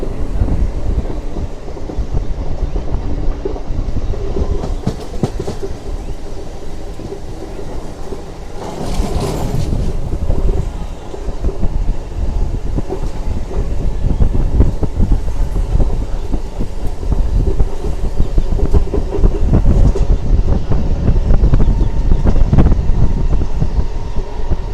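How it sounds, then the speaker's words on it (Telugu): The Renigunta–Nellore MEMU passenger train runs on a curve, its loud, steady near rumble threaded with wheel clatter, swelling briefly around the middle and staying strong to the end. "మన ట్రైన్ వచ్చేసి కళాశాల నుంచి కొంచెం బయట రాగా మనకు వచ్చేసి బ్యూటిఫుల్ కర్వ్ అయితే కొడుతుంది"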